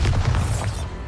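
The Bombarda blasting spell from Hogwarts Legacy erupts as a heavy, booming explosion with a deep low rumble and a crackling burst that fades over about a second.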